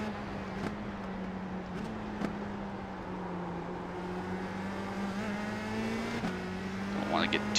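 A USF 2000 race car in the iRacing sim at Mid-Ohio, with a steady engine drone at constant pitch and a rising, thin squeal near the end as the rear tires slide.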